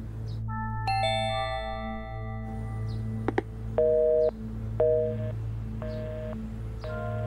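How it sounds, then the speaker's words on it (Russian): A telephone busy signal pulses in short, evenly spaced beeps after a brief ding-dong chime, heard over a steady low hum in an indoor setting. "Телефон занят"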